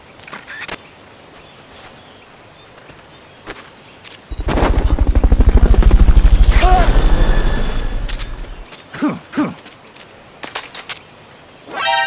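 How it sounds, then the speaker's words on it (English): Fulton recovery helicopter in Metal Gear Solid Peace Walker, a loud rhythmic rotor chop that swells in, peaks and fades over several seconds, framed by sharp game effect hits before and after. "Fulton recovery helicopter is complete."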